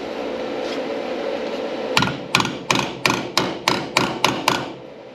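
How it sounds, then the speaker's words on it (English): Metal panel work on a 1985 Toyota Land Cruiser: a hammer strikes sheet metal about nine times in a quick, even rhythm, each blow a sharp, loud, ringing clang up close. "For now, I might actually hammer on that bit."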